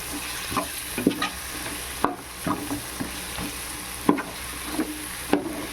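Masala powders and tomatoes for prawn biryani frying in a pan, a steady soft sizzle broken by repeated scraping stirs at irregular intervals, close and fairly quiet, no voices.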